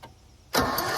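A diesel engine cranks slowly after a chilly night with its glow plugs warmed: a brief quiet lead-in, then a sudden loud, steady churning roar that holds close and strong to the end.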